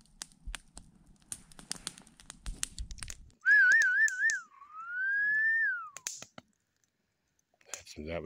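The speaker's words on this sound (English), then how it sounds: "We often attempt whistles to see if we can get a response, and this time we did." A person at a high-altitude Colorado forest camp gives a loud, close call whistle, first warbling then rising and sliding down in one long tone. Quiet crackling and clicks are heard before and after.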